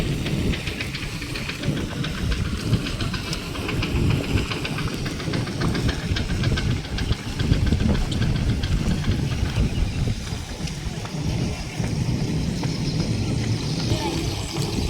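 A sugarcane crushing plant on a natural farm runs continuously, feeding third-year cane for jaggery making. It gives a loud, dense, unbroken mechanical rumble and clatter with hiss, heard up close for the whole stretch.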